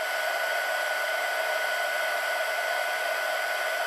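A heat tool blows hot air onto a Clearview sheet, a loud, steady, even whoosh like a hair dryer that holds unchanged from start to finish with no voices.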